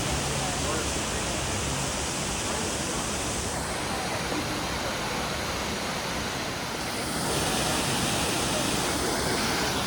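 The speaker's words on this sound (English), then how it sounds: "it's the tallest waterfall in the state" A 600-foot waterfall, the tallest in the state: a dense, steady roar of falling water filling the whole scene, loud and broadband with slight shifts in intensity, and no clear voices above it.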